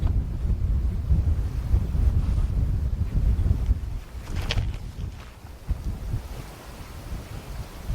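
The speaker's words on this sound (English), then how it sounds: "The wind is going a little bit left to right." Wind gusts at an outdoor long-range rifle range buffet the microphone with a steady low rumble, with no talk over it.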